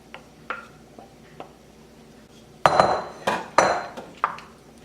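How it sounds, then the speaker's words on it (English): Diced pork being stirred into gravy in a pot, heard as a series of spoon-on-pot clinks and scrapes, light taps at first and then louder, busier clatter in the second half, with no talking. "So I'll place that in. Mix it into the gravy."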